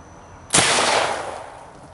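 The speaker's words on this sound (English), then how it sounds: "Last thing I want to shoot is a swelled up milk jug." One loud, close 12 gauge shotgun blast hits a swollen milk jug. A sharp crack follows a brief quiet lead-in, then a rushing echo that fades over about a second.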